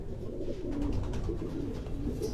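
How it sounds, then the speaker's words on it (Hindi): Racing pigeons in a loft in Quetta cooing steadily, soft low throaty coos repeating close by throughout, with no other sounds over them. "ये वो कबूतर हैं"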